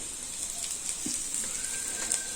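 Fish frying on a tawa until crisp, a steady close sizzle with faint crackles and a brief soft knock partway through, no voices.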